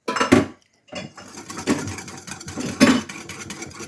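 Spoon clinking and scraping in a bowl while barbecue sauce and whole-berry cranberry sauce are stirred together, in a few separate bursts with short pauses between, close and moderately loud, no talking.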